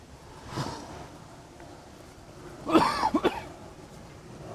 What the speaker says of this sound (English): trying to cough